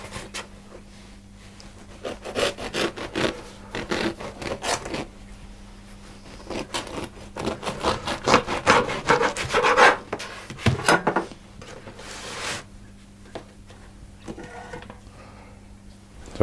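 A bread knife saws through a slice of Italian bread, with close, repeated rasping strokes in an uneven rhythm over a faint steady background hum, pausing briefly before a few final strokes.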